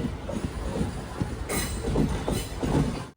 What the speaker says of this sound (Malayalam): 8:36 ട്രെയിൻ ഇതാ നാഗർകോവിൽ ജംഗ്ഷനിലേക്ക് എത്തുകയാണ്.